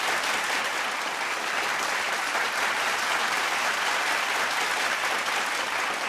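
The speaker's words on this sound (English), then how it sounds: "Lots of applause for that" A studio audience applauds on a beauty-themed talk show, with dense, steady clapping at an even level and no break from start to finish.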